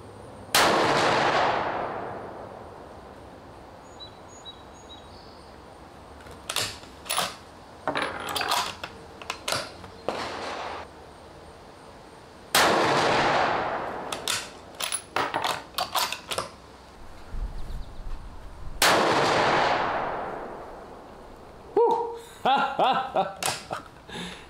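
Rifle fired at an outdoor shooting range on a cold day, with a Delta Stryker 4.5-30x56 scope mounted: loud, sharp individual shots with long echoing decay, alternating with clusters of quick clicks and clatter, no talking.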